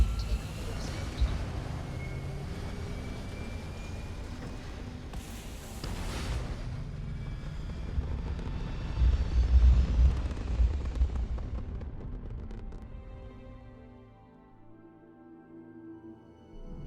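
A spaceship lifts off in Starfield with a loud, sustained rumbling roar and deep booming thrust that swells midway and then fades into quieter engine tones, with a voice speaking over it.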